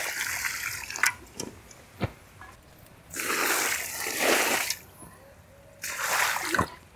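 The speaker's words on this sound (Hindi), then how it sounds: "अब इसमें जो है पानी और डाल देंगे।" Water is poured into a plant pot being treated with insecticide against root-eating pests, in two sustained splashy bursts after a few sharp clicks and handling sounds, close and moderately loud.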